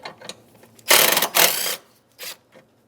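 Ratchet wrench loosening a 10mm nut in the intake area of a 2007-2015 Mazda CX-9 during coolant temperature sensor replacement, close and loud, with two long clicking bursts followed by a couple of short ones.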